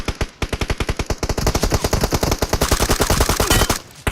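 Rapid automatic gunfire in PUBG Mobile, a loud, close, unbroken stream of shots lasting several seconds before a short pause.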